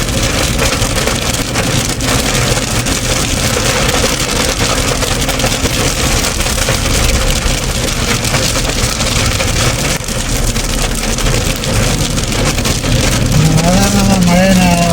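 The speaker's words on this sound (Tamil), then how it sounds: "மழை பிடிச்சிச்சுங்க. நல்ல மழை பிடிச்சிருச்சு." Steady heavy rain drumming on a car as it drives, a constant loud wash of noise with road rumble underneath.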